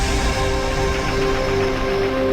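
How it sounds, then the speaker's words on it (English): The PlayStation 5 console startup sound: a sustained, full-bodied synth chord swells and holds steadily, a warm electronic tone filling the whole clip without any talking. "Now that is the sound of the PlayStation 5 starting up,"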